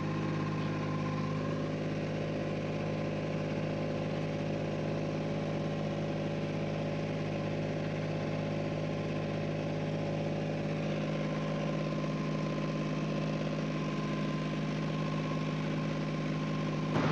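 An Ashok Leyland diesel generator engine idles after servicing and battery installation, giving a steady, even hum with strong low tones that continues unchanged throughout, with no talking.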